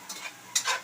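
Sardines frying in a pan, two short sizzling bursts with a faint crackle between them, close by and with no talk.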